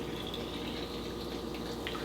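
Tonic water poured over a gin drink in a glass, a steady close fizzing, splashing stream that runs continuously with a faint bubbling hiss above it.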